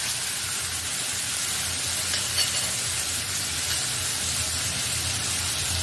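Onion and tomato fry in a hot pan for a cabbage masala, a steady close sizzle and hiss under occasional stirring scrapes.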